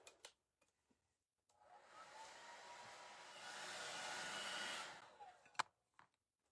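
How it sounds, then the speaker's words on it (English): A hair dryer used during a wooden planter box makeover, a steady whooshing blow lasting a few seconds and building slightly before cutting off, with faint handling clicks around it. "Let me grab the hair dryer."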